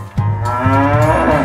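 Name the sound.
cow mooing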